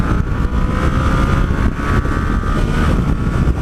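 A 2017 Yamaha Tracer 700 A2 motorcycle engine drones steadily from the rider's seat, a dense continuous roar with strong low rumble and wind noise, holding loud and even through the short stretch.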